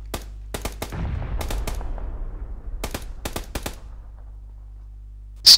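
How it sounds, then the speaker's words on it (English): Gunfire in the video game PUBG: sharp shots and short machine-gun bursts in scattered clusters, close and loud, with reverberant tails between volleys and a faint steady hum underneath. "I can hear the gunshots, but I've no idea where it's coming from."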